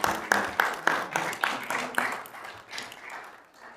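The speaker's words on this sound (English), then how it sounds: "there needs to be a great big round of applause for Charlie." A city council meeting audience breaks into a short burst of applause, a handful of distinct sharp claps at first that blur into a lighter, fading patter over a few seconds.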